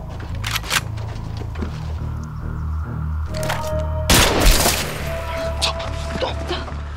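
Sniper rifle shots ring out in a Japanese-army war film, several sharp cracks in quick succession over a low, droning music bed, with one louder, heavier report near the middle.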